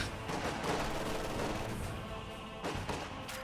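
Grenadier rifle fire in a WWII strategy video game, a rapid crackling volley of gunshots with several sharper cracks near the end, heard alone with no speech.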